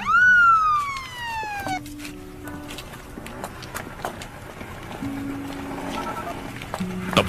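A police car siren wails with rising and falling sweeps, loud at first and then fading under a busy street scene with hoof-like clip-clops and other noises in a Korean comedy film dubbed in Tagalog.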